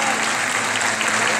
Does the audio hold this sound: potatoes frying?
no